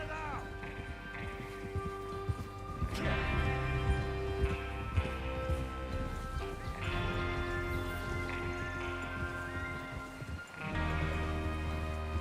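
Several horses' hooves clip-clop in Red Dead Redemption 2, a moderate, irregular trotting rhythm set under a sustained musical score and occasional voices.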